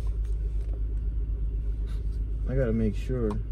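A Chevrolet Suburban Z71 truck with reported mechanical damage idles with a steady low engine rumble close by, while a person talks over it near the end.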